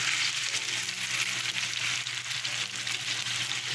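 Pork pieces frying in a pan for pork binagoongan, a loud, close, continuous hiss and crackle of sizzling oil with slight rises and dips, no talking.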